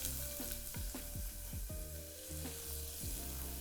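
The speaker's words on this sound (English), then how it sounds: "I'm gonna get these shallots just started sweating in some extra virgin olive oil" Steady, close sizzling of shallots frying in extra virgin olive oil, with rhythmic stirring scrapes every half second or so and no voices.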